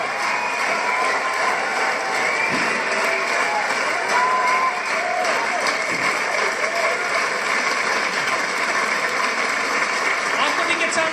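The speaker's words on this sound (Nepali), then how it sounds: "ल ताली बजाइदिनु होला।" Audience applause and cheering at a community annual day and Dashain-Tihaar celebration, a dense steady clapping crowd sustained throughout with a busy hall ambience and murmur underneath.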